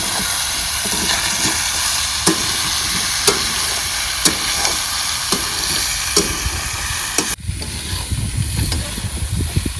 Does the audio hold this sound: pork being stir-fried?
yes